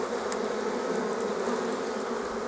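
Honeybees buzz around the hives of an apiary on a March day, a continuous droning hum close by and steady, with faint higher flickers of individual insects passing.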